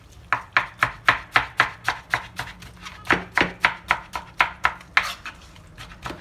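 Vegetables for an Adana-style tablacı salad are chopped with a knife on a cutting board, about twenty crisp, evenly spaced strokes in a steady rhythm, close and clear with no talking.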